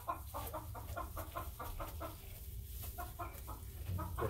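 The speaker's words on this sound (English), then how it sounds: "We get some chicken cords for you. They're not even a day old" Day-old chicks cheep in a steady series of short, high peeps, repeated many times over a low background rumble, fairly close and with no voices.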